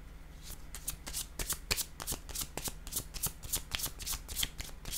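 Tarot cards riffled and shuffled by hand in a rapid, steady run of crisp flicks, close and fairly loud, with no speech.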